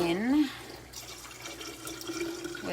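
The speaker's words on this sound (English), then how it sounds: "And I'm gonna pour it in" Cooled sweet tea poured into a jar for homemade kombucha, a steady liquid pouring wash running under a nearby voice that talks throughout.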